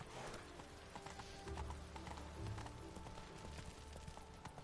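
Galloping hoofbeats of Geralt's horse Roach in The Witcher 3 video game, a steady clip-clop rhythm with a brief whinny mixed in, moderately loud and continuous with no talking.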